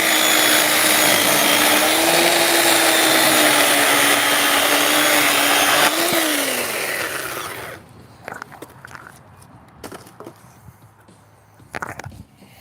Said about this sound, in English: Chainsaw work is fun though.